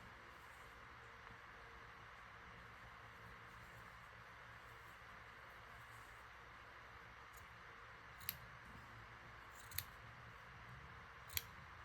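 Scissors snip through a fabric seam edged with crochet, three short crisp cuts near the end after a long stretch of very faint near-silence.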